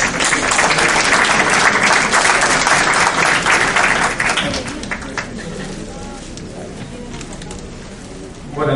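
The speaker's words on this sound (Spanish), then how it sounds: "para que le damos un fuerte aplauso" Audience at a registry-law workshop giving the speaker a loud round of applause, dense clapping for about four seconds that fades into scattered claps and murmuring voices.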